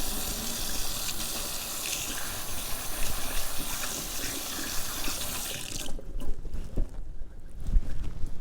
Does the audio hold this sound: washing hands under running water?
yes